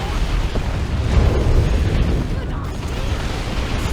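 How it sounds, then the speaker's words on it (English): Orbital bombardment in the Warhammer 40,000 strategy game Dawn of War 2 gives a dense, continuous roar of rumbling explosions, loud and sustained throughout with no clear pauses. "That was a really weird orbital bombardment."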